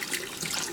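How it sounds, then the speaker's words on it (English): Scalding hot tap water runs in a brief, steady splashing stream into a sink, close and fairly loud with no voices. "you can rinse it out with scalding hot water"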